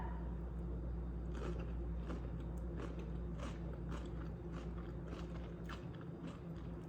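Someone bites into a small pimento cheese sandwich made with cucumber slices. Soft, close crunching and chewing sounds come over a steady low background hum, quiet and without speech.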